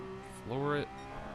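A race car in Gran Turismo Sport revs hard at full throttle, its engine pitch climbing sharply for about a third of a second and then dropping back to a steady idle-like hum.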